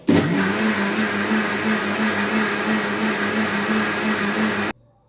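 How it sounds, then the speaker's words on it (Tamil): A mixer grinder whirs loud and steady for several seconds, blending batter ingredients with milk, a constant motor drone that cuts off abruptly at the end. "இது எல்லாத்தையும் சேர்த்து மறுபடியும் ஒரு 30 செகண்ட்ஸ்க்கு அரைச்சி எடுக்கணும்."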